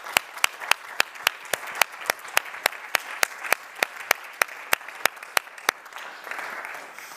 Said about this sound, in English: So an applaud for the garden.